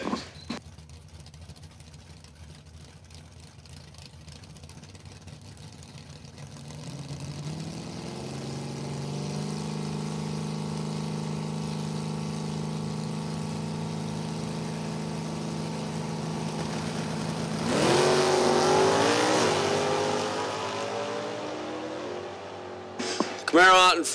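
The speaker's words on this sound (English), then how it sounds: "Camaro out in front. E-body closing in. Here comes the CUDA." Chevrolet Camaro and a Plymouth Cuda E-body drag racing at Numidia Dragway during class racer nationals, engines building into a long sustained roar that swells as the cars pass, with a race announcer talking over it.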